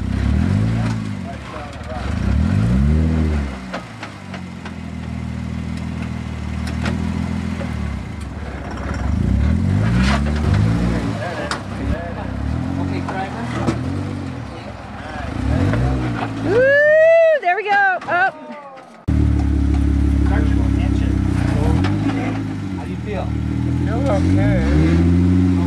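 An off-road vehicle grinds and revs over rocks on the John Bull Trail, its engine surging and straining in long close pulses, with a sharp high whine near the middle and people talking throughout.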